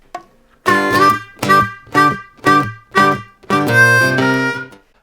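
Blues harmonica lick over a one-chord blues: six short bright chordal blasts in a steady rhythm, ending on a longer held wailing chord, loud, close and solo.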